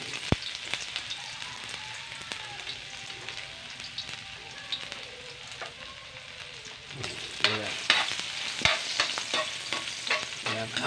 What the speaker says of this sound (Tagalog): So since may init na yan, ilalagyan na natin ang luya.